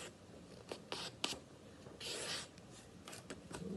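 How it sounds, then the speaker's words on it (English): A sheet of paper is handled and folded in half, producing soft, faint rustles and rubbing crinkles in short bursts, close by, with a longer sliding crease partway through. "I'm going to match up the corners, right? Match them up as good as I can. And I'm folding it right in half."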